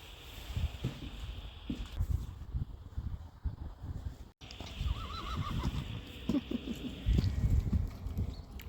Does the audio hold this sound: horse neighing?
yes